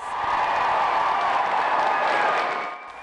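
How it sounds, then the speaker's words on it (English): Sustained applause and cheering from a crowd at a high school graduation ceremony in East Liverpool, a broad steady wash of clapping that fades near the end. "Then came the applause."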